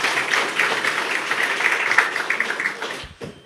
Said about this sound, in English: He needs a quick round of applause